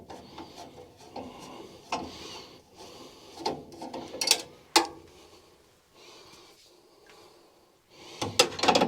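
Loosening a screw on a Bryant furnace burner during a burner tube replacement, with scattered close metallic scrapes, clicks and taps, some sharp, between quieter gaps.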